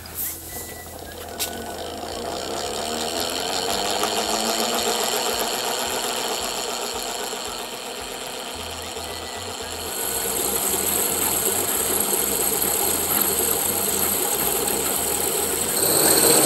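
A DeLonghi PrimaDonna Elite ECAM650.75.MS coffee machine preparing hot chocolate, a steady mechanical hum and pumping drone with rhythmic pulsing that shifts partway through and continues without talk.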